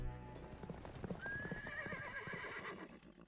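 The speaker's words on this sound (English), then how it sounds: "What was that whinny?" A horse in the Fate/Grand Order video game gives a high, rising whinny over rhythmic clip-clop of hooves, with the hoofbeats steady throughout and the neigh stretching across the middle.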